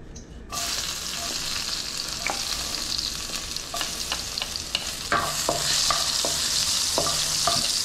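Hot cooking oil sizzles steadily in a pan, a loud continuous hiss with scattered pops and crackles, joined by several clinks of a utensil stirring toward the end.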